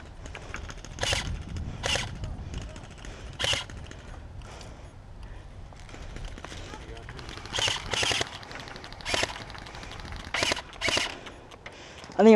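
Bursts of gunfire in a video game, several short rapid volleys at irregular intervals, moderately loud, with players talking between them.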